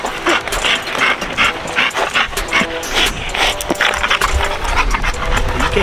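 A dog pants hard and whimpers while tugging on a spring pole during a training session, with steady breathing and straining sounds, close and continuous throughout.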